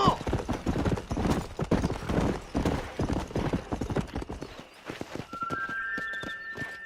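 Rapid clip-clop of horse hooves galloping in Red Dead Redemption on Xbox 360, a steady rhythmic pounding with occasional talk over it, the hoofbeats thinning near the end as short tonal notes sound.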